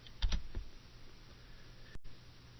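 A single sharp click of the Enter key on a computer keyboard, preceded by a few soft keyboard taps, close and isolated with no talking.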